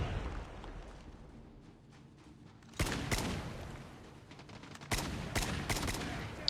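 SKS rifle gunfire in a pay-to-win shooter game: faint distant crackle early on, then two loud close bursts of rapid shots a couple of seconds apart, each trailing into rumbling echo.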